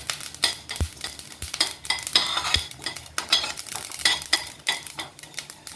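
Fenugreek seeds and black peppercorns dry-roasting in a hot pan, stirred constantly with a utensil: busy scraping and rattling with occasional sharp knocks against the pan, close and fairly loud.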